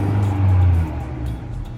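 A 2019 Honda Accord engine revs in a steady low drone that swells briefly, then eases back to a lower idle-like hum, close and fairly loud, with no voices.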